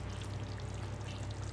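Water being poured into a simmering spicy crab gravy in a pan, a steady, close trickling pour over a soft low bubbling hum, with no talk.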